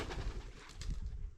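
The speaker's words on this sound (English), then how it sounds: "These pigeons, they're just flying out." Pigeons burst out and fly off inside an abandoned building in Angus, Scotland, their wings flapping in rapid, fluttering bursts that sound fairly close and moderately loud, with no voices.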